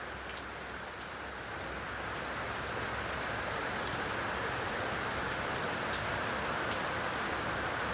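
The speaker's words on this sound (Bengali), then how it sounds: "রথের দিনে কি পরিমাণ বৃষ্টি হচ্ছে, একদম মুষলধারে বৃষ্টি" Heavy monsoon downpour on a festival day in a Bengali home setting, a dense, steady roar of rain with fine tapping drops on surfaces, building slightly louder and holding constant throughout with no voices.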